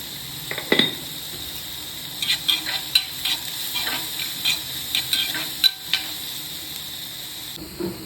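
Onions being sautéed with salt in a pan for a brinjal bharta, a soft sizzle under scattered clicks and scrapes of stirring, close and moderately quiet, with no talking.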